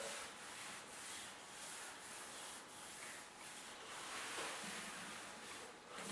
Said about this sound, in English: So we take off the excess caulking there.